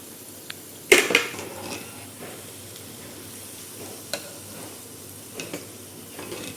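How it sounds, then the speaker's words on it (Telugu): Vegetable Manchurian balls fry in hot oil, a soft steady sizzle broken by a clattering stir of a utensil against the pan and a few scattered clicks. "బ్రౌన్గా అయ్యేంత వరకు మనం ఫ్రై చేసుకోవాలి"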